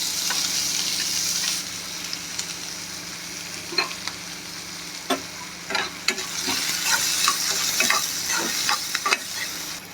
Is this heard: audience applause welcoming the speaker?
no